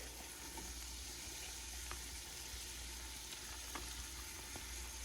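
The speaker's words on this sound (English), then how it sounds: "And that's a quick stir, right?" Fresh and dried basil and parsley being stirred into a frying pan for meatballs: a soft, continuous sizzle with faint scraping taps of a spoon, low and steady throughout.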